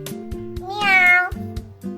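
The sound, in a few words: child imitating a cat's meow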